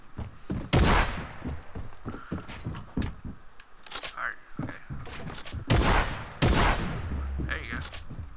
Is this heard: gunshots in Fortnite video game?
yes